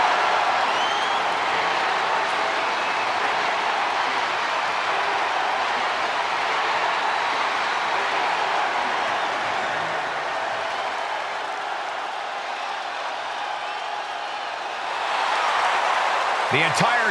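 Arena crowd in WWE 2K24 roaring and cheering for Jey Uso at a wrestling house show, a dense sustained wall of crowd noise that swells again near the end.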